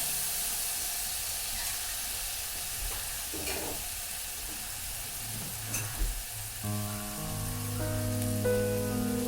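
Crushed ginger, garlic, green chili and shallots sautéing in a pan for a traditional Kerala curry, a steady close sizzle with occasional stirring scrapes and clinks, and a faint melodic tone entering near the end.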